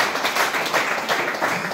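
A church congregation applauds together in a dense, continuous wash of clapping that holds steady for the whole moment.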